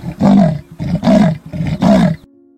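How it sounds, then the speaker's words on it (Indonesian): A leopard gives a rasping roar of four hoarse, rhythmic sawing calls at close range, each a deep grunting burst with short pauses between, and no voices over it. "Macan tutul bisa mengaum."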